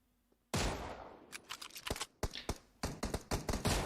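Sniper rifle fire in a competitive first-person shooter match, with a loud booming opening shot followed by a rapid string of sharp cracks and gunfire bursts, close and dense.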